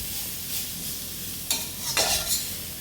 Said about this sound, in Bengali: তবুও একটু দিয়ে হালকা একটু নাড়াচাড়া দিয়ে নিলাম মাছ ভাজাটা।